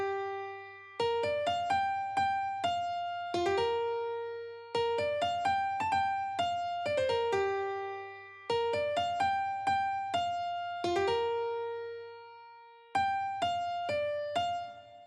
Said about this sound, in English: The most bright and lucid thing in the song was obviously the lead melody, that in the piano sound like this.